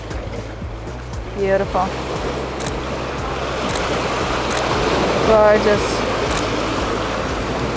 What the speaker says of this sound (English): So we're getting some really nice splash in the background, very cinematic